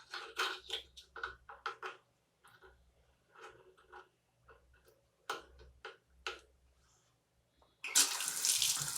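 A kitchen tap fitted with an aerator is turned on near the end, releasing a loud, close, rushing water flow after a stretch of intermittent clicks and handling sounds.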